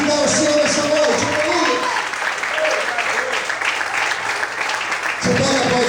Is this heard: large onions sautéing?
no